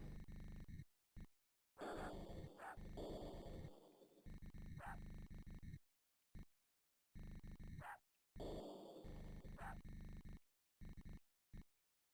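Dogs barking in the Amiga video game Code Name Nano, sounding as repeated bursts of yips and barks in short bouts, with gaps of silence between them, set against game audio.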